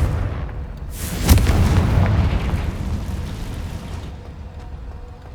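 A fiery Confringo spell explodes in Hogwarts Legacy with a loud, booming blast that swells quickly and rumbles on, then fades slowly over several seconds, with no voices over it.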